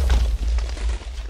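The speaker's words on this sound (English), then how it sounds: "They all explode if they hit a mob. Look at all those explosions." Booming explosions set off by a Minecraft mod weapon (Advent of Ascension mod, 1.12.2) as projectiles hit mobs, heard as a dense, continuous barrage of loud low rumbling bursts with no gaps.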